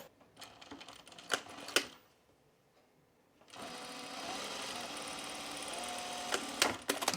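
A sewing machine stitching a seam sounds close, with a few short clattering bursts, a brief pause, then a long steady whirring run, no talk.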